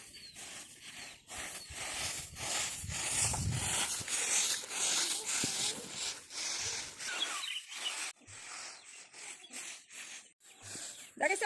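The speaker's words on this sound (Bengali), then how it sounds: "এইভাবে ধান যত সময় না শুকায় তত সময় এইভাবে নাড়তে থাকতে হবে" Paddy rice grains are raked and stirred as they sun-dry in a village yard, giving a continuous dry rustling and scraping in repeated strokes, with little or no talk.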